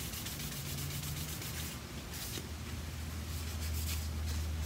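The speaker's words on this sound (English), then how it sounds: "can use like a wet sandpaper. This happens to be 600 grit." Wet sanding on plastic with 600-grit sandpaper gives a steady, soft rubbing hiss that runs continuously, close and fairly quiet, over a low background hum.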